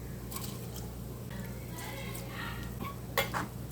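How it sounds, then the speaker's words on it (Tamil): Soaked rice is tipped into a cooking pot and stirred, giving faint scraping and clinking of a utensil against the pot with a brief louder knock near the end. "அரிசி சேர்த்து நல்லா கலந்து விட்டுக்கோங்க"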